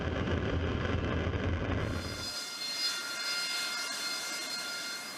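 Harrier II military jet with VTOL capability, engine roaring loud and close with a heavy low rumble that cuts off partway, leaving a steady high-pitched whine afterward.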